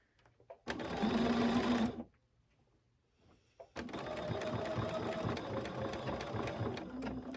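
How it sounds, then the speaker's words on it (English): A sewing machine top-stitches a fabric face mask in two close, loud bursts of rapid mechanical stitching, separated by a brief quiet pause. "take your time with your top stitching"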